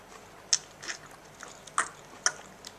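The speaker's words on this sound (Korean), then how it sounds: "엄마도 사과 먹고 있어요." A person bites into and chews an apple close up: a few sharp, crisp crunches spaced about half a second apart, with softer chewing between them in a quiet room.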